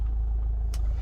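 A 2013 Toyota RAV4 with a 2.2 D-4D diesel engine idles with a steady, close, low rumble. There is no talking and only a brief faint click partway through.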